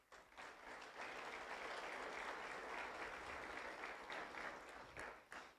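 A church congregation gives a round of applause for Jesus during a sermon, a sustained, even wash of many hands clapping that swells quickly, holds steady, then breaks into scattered claps.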